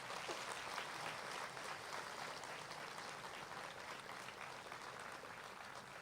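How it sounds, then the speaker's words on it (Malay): Sustained applause from an audience at a polytechnic closing ceremony honoring volunteer committee members: an even wash of clapping, moderately loud and unbroken for several seconds, with no speech over it. "berikan tepukan yang gemuruh kepada ahli jawatan kuasa sukarelawan"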